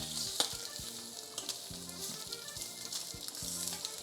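Bacon and eggs sizzle steadily in a frying pan, a close, continuous crackle with scattered sharper pops and faint low thumps underneath, no voices.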